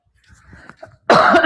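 During a teaching session, a person murmurs quietly at first, then breaks into a loud, harsh cough close to the microphone.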